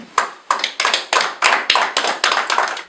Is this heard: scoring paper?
no